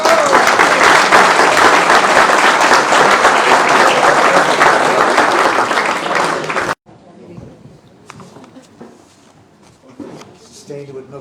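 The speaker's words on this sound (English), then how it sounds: "Sustained with another round of applause from Getty." Loud, dense applause from a large drama festival audience that stops abruptly, followed by quiet room noise and faint stirring.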